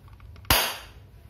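A spring airsoft pistol dry fires with a single sharp, close snap that decays quickly, with faint handling sounds just before it.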